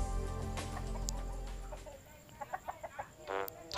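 A gamefowl chicken being groomed gives a few short soft clucks close by after a stretch of low background noise, with no talking.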